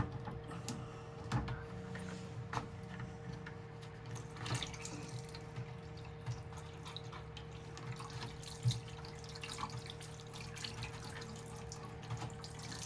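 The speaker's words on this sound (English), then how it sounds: "because it was not draining through the machine, all the water is coming out" Water pours steadily out of the opened drain filter of an LG washing machine that would not drain, a continuous faint trickling and splashing with occasional small clicks, no talking.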